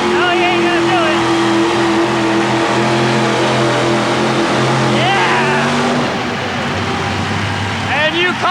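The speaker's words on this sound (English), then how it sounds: "Tony's revving up, getting ready to start" A 4WD pulling truck revs hard at wide open throttle inside the Houston Astrodome at a 1990 truck pull, a loud sustained engine roar that lifts in pitch and then eases off, with an announcer talking over it the whole time.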